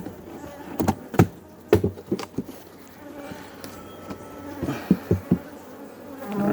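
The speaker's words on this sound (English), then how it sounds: "I am seeing bees up here" Honey bees buzz steadily close by inside an opened hive, a soft droning hum punctuated by a few light taps and knocks.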